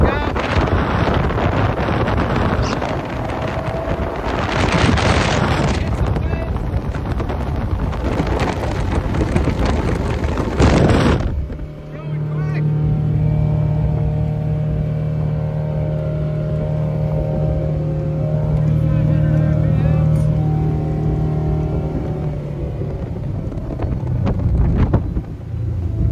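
A 1998 Sea Ray 180 boat speeds across the water with heavy wind buffeting, then the gust drops away to leave a steady engine drone that swells again near the end.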